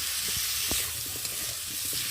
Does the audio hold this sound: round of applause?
no